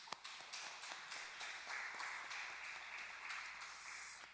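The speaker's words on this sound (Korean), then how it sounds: "모두를 위해서 축복하고 격려하는 박수 하겠습니다" Church congregation applauding together at a Wednesday early-morning worship service, a steady, fairly faint wash of many hands clapping at moderate distance.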